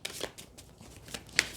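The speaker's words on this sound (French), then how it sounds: "je vais mélanger les cartes" Tarot cards being shuffled by hand in a short, soft, papery riffle with a few quick flicks and taps.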